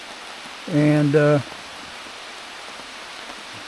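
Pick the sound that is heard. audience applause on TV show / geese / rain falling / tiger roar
rain falling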